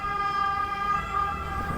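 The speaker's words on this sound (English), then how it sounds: "ambulance, hope someone's okay." An ambulance siren wails steadily as the vehicle passes, a sustained tonal siren with a low rumble of road traffic beneath it, fairly loud and without speech.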